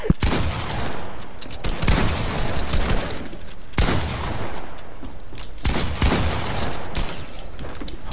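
Rapid bursts of video game gunfire crackle in dense, loud volleys, with brief breaks between the heavy rounds of shooting.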